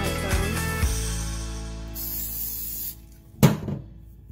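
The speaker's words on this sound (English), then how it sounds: "I always spray my spatula before I put that near that sugar mixture" A short hissing burst of cooking spray from an aerosol can onto a spatula, heard once and close, after some clattering handling noise.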